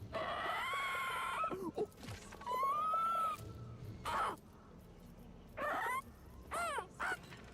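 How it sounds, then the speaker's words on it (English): Bird noises in the Warhammer 40k: Dark Heresy game come as harsh, squawking, crow-like cries in several separate bursts with short pauses, heard alone without speech. "It's just the bird noises."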